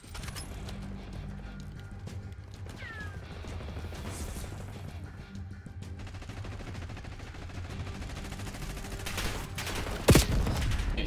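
Rapid gunfire in the video game Black Ops 6 online multiplayer match, dense bursts and fusillades running steadily through the clip under game noise, with a sharp loud report near the end.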